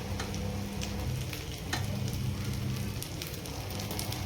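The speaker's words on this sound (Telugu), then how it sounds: "ఆవాలు పోపు వేస్తున్నాను అనమాట పప్పులోకి" Mustard seeds and cumin crackle and sizzle in hot oil for a dal tempering, a dense continuous frying hiss with scattered pops and spits, close and fairly loud with no talk.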